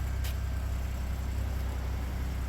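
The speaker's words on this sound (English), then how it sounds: "Motor doesn't sound super healthy" A 2018 Ford F150 EcoBoost engine, low on coolant, overheating and tapping, idles with a steady low rumble and a faint metallic ticking layered over it, recorded up close.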